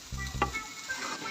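Onions with sugar frying in a pan sizzle softly and steadily with a brief stirring scrape, close up and quiet, with no talking.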